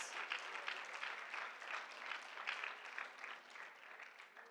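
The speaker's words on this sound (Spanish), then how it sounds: "Una ofrenda de palmas con todas sus fuerzas." A crowd at a church vigil claps loudly and steadily for several seconds, a dense roomful of applause with no pause.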